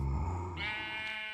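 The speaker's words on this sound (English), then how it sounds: "so we've got a sheep" A single video-game sheep bleats once, close and clear, a wavering nasal call lasting about a second over a quiet background.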